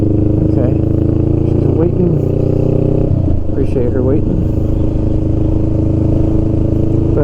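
A Honda Rebel 500 motorcycle carrying a passenger cruises with a steady, loud engine drone and wind roar throughout, with no speech heard.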